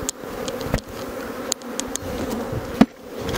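Dense, steady buzzing of many honeybees close by at a hive, with a few sharp clicks and knocks breaking through the hum.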